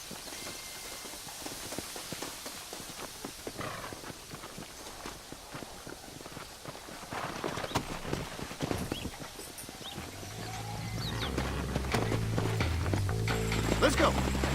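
Horses in the video game Red Dead Redemption clip-clop steadily, with hoofbeats continuing under ambient game sound, and a low musical drone rises near the end.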